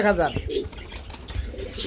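A pair of round-type pigeons at a pigeon market give a brief throaty coo close by, mixed with someone talking and other bird sounds in the background.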